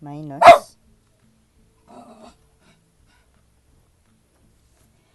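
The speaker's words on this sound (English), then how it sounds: "so sorry about the dog" A dog gives one sharp, loud bark close by in an otherwise quiet room. A moment later a person speaks a single brief word.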